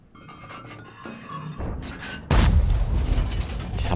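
Tank cannon fire in World of Tanks: mechanical clanks and rumbles build up, then one loud, sharp booming shot with a long rolling tail, close and dominant.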